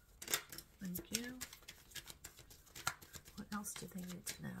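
A deck of tarot cards is shuffled by hand, soft riffling and flicking bursts close by, with a quiet voice murmuring intermittently over them.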